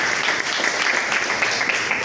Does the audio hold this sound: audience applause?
yes